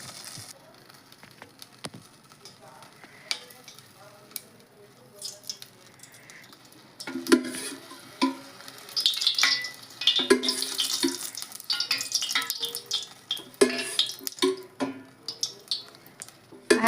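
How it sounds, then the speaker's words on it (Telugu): Oil-fried tempering for a Malabar spinach dal crackles and sizzles in a pan on the stove, quiet at first and then bursting into louder, irregular spattering pops for the rest of the time. "ఇప్పుడు తాలింపు పెడతానండి"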